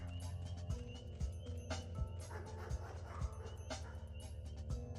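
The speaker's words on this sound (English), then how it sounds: "But that was a very loud dog." Dog barking inside the video game Pathologic Classic HD, a loud repeated bark recurring roughly every half second to second over a droning ambient game background, with no talk.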